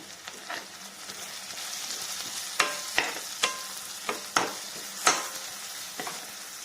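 Onion, tomato and garlic sautéing in a pan give a steady, fairly quiet sizzle, broken by about half a dozen sharp spatula taps and scrapes that come more often toward the end.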